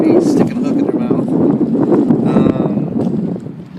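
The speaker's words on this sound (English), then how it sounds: "It's kind of a windy day out here." Wind buffets the microphone in a continuous low rumble outdoors while fishing, with faint sounds of a voice mixed into the steady blustery noise.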